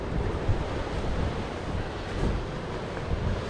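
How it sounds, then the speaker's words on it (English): Ocean surf tearing at the coastline beside a closed coastal road, a continuous loud broadband roar of breaking waves with gusts of wind noise on the microphone and no voices. "The ocean and everything is just pretty much just tearing up the side here"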